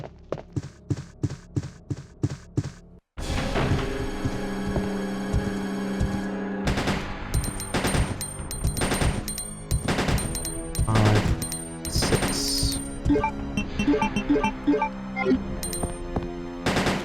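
Burst-fire gunfire in Resident Evil 2 Classic: a rapid string of sharp shots opens, then loud repeated bursts and impacts ring out over a dense, booming game soundtrack, with no talking.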